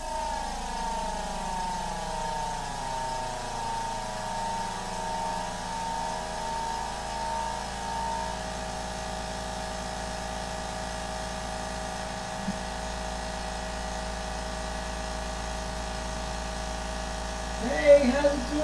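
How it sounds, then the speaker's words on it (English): An airbrush air compressor running nearby, a steady motor drone whose humming tones slowly shift in pitch, ending with a short clatter. "Just gonna wait for that compressor to kick off anytime now."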